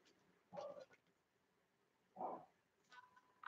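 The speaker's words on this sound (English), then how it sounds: "My dogs are barking." Small dogs yap in short bursts, two separate barks a couple of seconds apart at moderate distance, with muffled indoor background noise.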